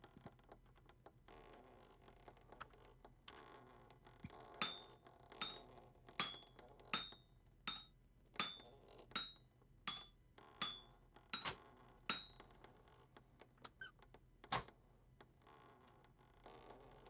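Metal hammer blows on hot steel while forging bolts, a steady run of about a dozen sharp ringing strikes with bright metallic overtones, fairly close, with no talking.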